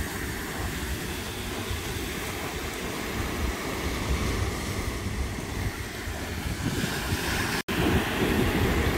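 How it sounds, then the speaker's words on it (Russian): Ocean waves wash onto a beach in the USA as a continuous, even surf rush, with wind buffeting the microphone. "Но сегодня волны такие поменьше"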